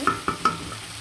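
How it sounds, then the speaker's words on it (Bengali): Vegetables (cauliflower, beans, potato, green tomato) frying for a bhetki fish curry and being stirred, three quick scraping strokes of a spoon against the pan over a soft sizzle, close and clear. "সবজিগুলো দিয়ে দিলাম, দিয়ে ভালো করে কিন্তু নাড়াচাড়া দিয়ে দিব"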